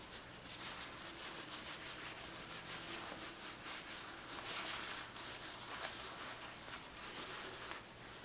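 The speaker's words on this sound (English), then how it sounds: "We're gonna wipe all the grease off of this" Paper towel rubbing and wiping grease off a bicycle's rear shock linkage, a steady soft scrubbing with repeated quick strokes, close and fairly quiet throughout, with no talking.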